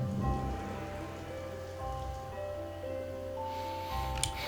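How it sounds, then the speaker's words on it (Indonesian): Heavy rain pours steadily throughout a scene in the video game Until Then, a dense hiss layered over soft background music, with no talking. "Deras lagi hujannya."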